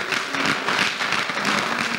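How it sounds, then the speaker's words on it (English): Audience applause in a hall during a university convocation lecture, a steady wash of clapping at moderate level throughout, with no voices. "let us give a round of applause for ourselves"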